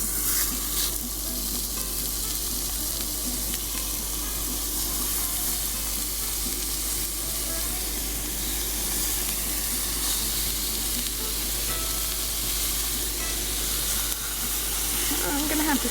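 Hamburger steaks fry in a hot pan over medium heat, giving a loud, steady sizzle and crackle that runs without a break from start to finish, with no talk over it.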